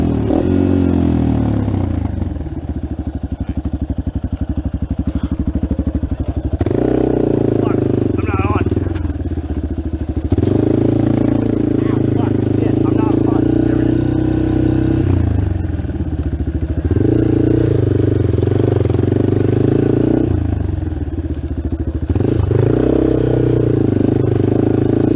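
A dirt bike engine roars close by while riding, its revs surging and dropping in repeated waves over a steady loud drone, with occasional clatter and voices mixed in.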